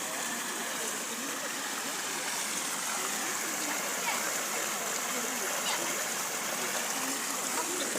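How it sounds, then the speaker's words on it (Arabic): Cold water from a natural spring flows and splashes in a steady, close rush that fills the whole clip without any break. "هادي العين سميتها الماء البارد"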